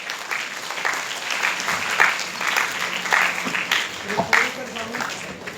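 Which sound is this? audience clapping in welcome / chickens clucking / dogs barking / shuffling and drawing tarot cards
audience clapping in welcome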